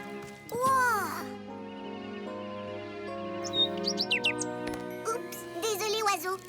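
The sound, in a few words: bird chirping in a cartoon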